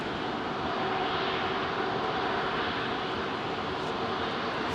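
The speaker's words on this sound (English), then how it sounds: "Beautiful A350 with British Airways." A British Airways Airbus A350 jet roars steadily at Heathrow, a broad, sustained engine rumble with a faint high whine, loud and even throughout without talk.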